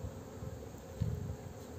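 Honey bees buzzing in a weak hive, a soft, steady insect drone heard close and faint throughout.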